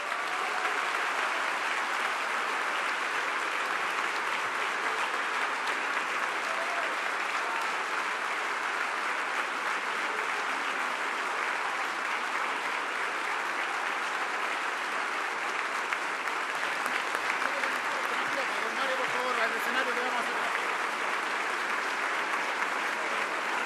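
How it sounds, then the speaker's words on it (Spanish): Long, sustained applause from a large audience after a speech at a business conference, an even roar of many hands clapping continuously throughout, fairly distant and uniform in level. "Aplauso"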